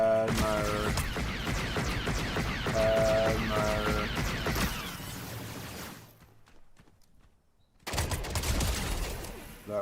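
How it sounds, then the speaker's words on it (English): Rapid bursts of gunfire in a Batman video game, dense and loud for several seconds, dropping to near silence and then erupting again, with musical game tones mixed in. "I was shooting with the wrong Batman"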